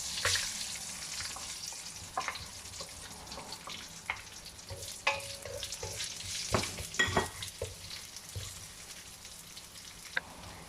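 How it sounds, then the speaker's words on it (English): Onions fry in a pan with curry leaves for a canned sardine curry, a soft steady sizzle broken by irregular clinks and scrapes of stirring, close and without talk. "Then I'm putting in some onions."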